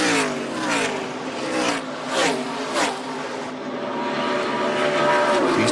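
Stock race cars in an ARCA Menards Series East race at Dover International Speedway, engines roaring and whining in repeated loud surges as they accelerate and sweep past into the turns.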